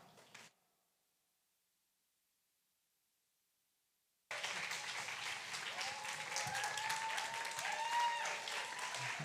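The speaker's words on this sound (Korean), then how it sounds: "뜨거운 박수로 환영하도록 하겠습니다" After a brief sound and a few seconds of near-silence, warm applause from a worship gathering breaks out loudly to welcome a guest minister, with rising cheers and whoops mixed in, and carries on steadily to the end.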